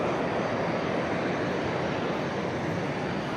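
Snowbird aerobatic jets take off down a runway during Fleet Week, a steady, loud, broadband engine roar that holds at an even level throughout.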